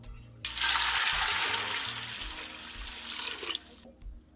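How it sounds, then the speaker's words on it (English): Water gushes steadily from a tap into a pot for Jamaican stew peas, a loud, full rush lasting about three seconds before it cuts off, with low background hum around it. "You want to put about 6 to 7 cups of water in it."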